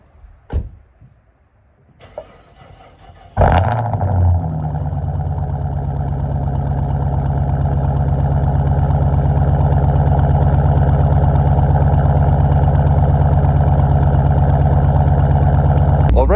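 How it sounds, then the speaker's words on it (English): A Jeep Grand Cherokee Trackhawk cold-starts at minus 43 degrees: a few clicks and a brief crank, then the engine catches and settles into a loud, steady, rumbling idle up close. "So I really think this is going to be the coldest ever start on a Trackhawk."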